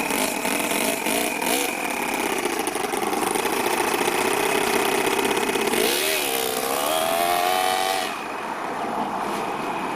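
Four-cylinder four-stroke nitro RC car engine in a rat rod build idling, a steady buzzing drone with a brief rise and wobble in pitch before settling back, heard close and continuous.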